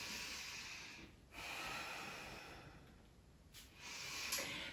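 Steady breathing during a yoga side stretch, two long soft breath sweeps with a brief pause between, close and clear, with no talking.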